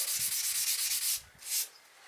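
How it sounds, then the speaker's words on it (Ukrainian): Sandpaper rubs back and forth over a titanium motorcycle exhaust in steady rhythmic strokes, a close, hissing scrape that pauses briefly before two final longer passes. "навіть якщо ви не хочете шліфувати, а просто почистити вихлопну від всяких оцих нагарів, масла, спаленого і тому подібне, то рекомендую наждачком"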